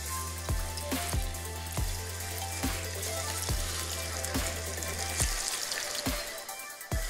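Chicken pieces frying in hot oil, a dense steady sizzle punctuated by sharp pops and crackles every second or so, close and fairly loud, with no talking.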